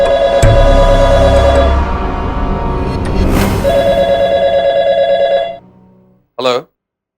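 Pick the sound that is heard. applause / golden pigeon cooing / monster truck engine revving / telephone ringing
telephone ringing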